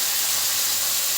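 Potatoes frying in a pan in a Bengali home kitchen make a continuous, close sizzle and steamy hiss that stays steady and unbroken, with no talking.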